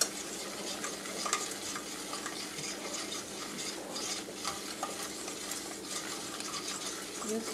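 Flour browns in a pan for meatloaf, giving a faint, steady sizzle with scattered scraping and stirring sounds, and no talking.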